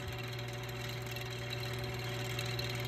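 Marvin Model 1015 10-inch window fan running, a steady unbroken motor hum with a low drone and airy rush, close and constant throughout with no talking.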